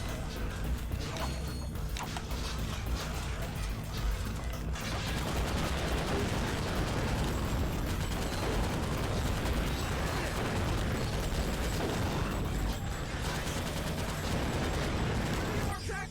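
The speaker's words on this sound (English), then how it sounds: "Okay, it starts shooting again." Enemy gunfire in the video game Ratchet: Gladiator, a sustained rattling barrage of shots with mechanical clatter over constant combat noise, loud and continuous throughout.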